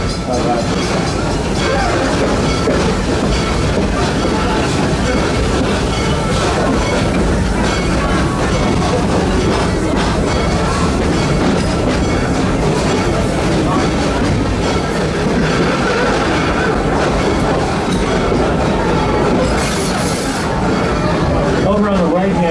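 Busch Gardens steam train rolling along its track through the park, a loud continuous rumble with rhythmic wheel clatter, heard up close from on board under a narrator's amplified voice.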